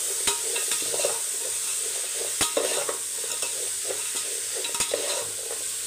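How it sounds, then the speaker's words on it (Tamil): Vegetables sauté and sizzle in a pan for sambar, with steady frying hiss broken by several sharp spatula knocks and scraping strokes, close and fairly loud. "நல்லா காய் வந்து வதங்கட்டும்."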